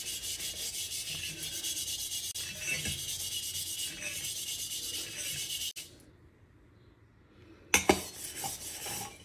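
A burnt stove vessel is scrubbed by hand with cleaning liquid, producing a steady close-up rasping rub that pauses briefly, then resumes with a couple of sharper scrapes.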